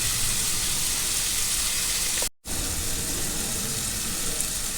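Food fries in a pan in a van kitchen, a steady broadband sizzle that drops out for a moment and comes straight back.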